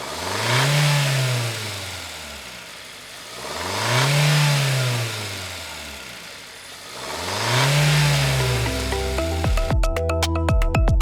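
A Kia K5 1.6L turbo engine fitted with a Takeda Momentum cold air intake revs up three times in long swelling pulls with an intake roar, settling between each, followed by a rough idling rumble at the end.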